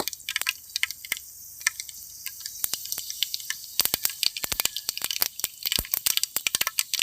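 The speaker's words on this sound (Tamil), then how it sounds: "இப்போ எண்ணெய் காஞ்சிடுச்சு, கடுகு, உளுந்தம்பருப்பு போட்டுக்கலாம்." Mustard seeds and urad dal crackling in hot oil for a village-style beetroot stir-fry, with sharp, scattered pops and sizzling spatters that start sparse and grow denser and louder, heard close with no voices.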